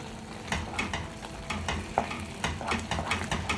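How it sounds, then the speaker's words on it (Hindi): Pasta e patate with melting cheese is stirred in a pot: a spoon scrapes and sloshes through the thick mixture in steady, repeated strokes over a faint background sizzle, close and fairly loud. "कंटिन्यूसली मुझे स्टर करना पड़ेगा, क्योंकि चीज़ को अपने को मेल्ट करना है पास्ता के साथ।"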